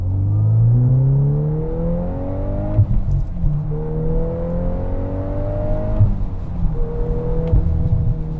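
A VW Golf R with a racing line piggyback tune revs up through the gears, the engine note climbing in three rising sweeps, with sharp exhaust cracks on each shift, loud and close.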